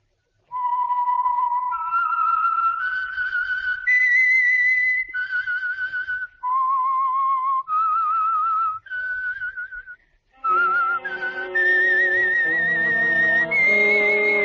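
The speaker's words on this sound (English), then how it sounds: "the signal to listen for is this whistle that identifies the Signal Oil program" A lone whistler carries the theme tune of the Signal Oil radio program, clear melodic notes phrased in short runs with a brief pause midway, loud and close with no other sound.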